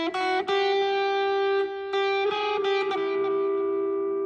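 Distorted electric guitar soloing through a small Spark Mini amp, with sustained bright notes and a few bends and picked changes, played alone and up close with a compressed, fuzzy tone.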